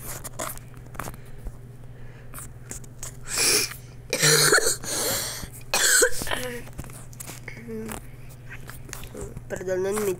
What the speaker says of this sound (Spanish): Perdonen mi tos, por favor.